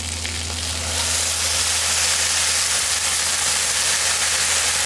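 Peppers and onions sizzle steadily on a PK grill in a loud, continuous hiss, with a low hum running underneath and no voices.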